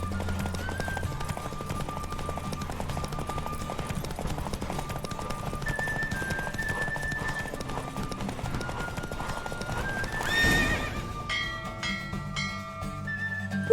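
A horse galloping in a race in The Witcher 3, rapid rhythmic hoofbeats running steadily under a light melodic score, with a brief whoosh near the end before the music carries on alone.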